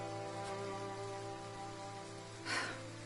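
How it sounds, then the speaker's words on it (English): Steady rain falls in the video game Triangle Strategy, a soft, continuous patter under a sustained musical drone, with a brief breathy burst near the end. "we can wait out the rain here for the day"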